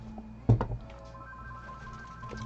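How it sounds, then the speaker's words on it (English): A telephone rings once, a short bright tone burst standing out over a quiet room hum in a guitar and music shop. "Oh, I gotta answer a phone call."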